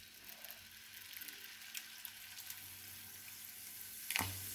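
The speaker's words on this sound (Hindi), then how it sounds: "ये फैंटा उबल रही है" Fanta mixed with water bubbles in a pot for Maggi noodles, a faint, steady hiss and fizz of boiling liquid with a soft clank near the end.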